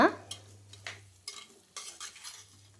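Potato, cauliflower and other vegetables being turned in oil and paste for a white peas vegetable curry, a run of scraping spoon strokes over a light sizzle, close and uneven.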